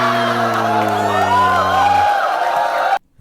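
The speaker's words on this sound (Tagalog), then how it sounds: "malakas lang yung hiyawan ng mga backup niya dito" A crowd of backers shouts and cheers loudly at a Filipino rap battle. The noise is continuous and rowdy, with a strong sustained voice holding a tone through the first part and whoops over the roar.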